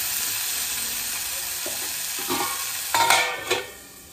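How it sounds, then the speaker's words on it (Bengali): Chunks of taro and potatoes with turmeric are stirred in a pan, giving a steady bright sizzle with a few scraping stir strokes near the end before the sound drops away. "এবারে কিন্তু ভালো করে নাড়াচাড়া করে নিয়ে আবার আমি ঢাকা দিয়ে দেবো।"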